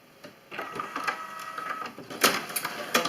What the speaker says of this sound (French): On va lancer une impression